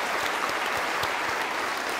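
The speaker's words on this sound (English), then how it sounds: "how about another round of applause for the cheerleaders?" Audience applause for cheerleaders at a school district opening day event, a steady wash of many hands clapping with a few distinct claps popping out, continuing evenly without speech.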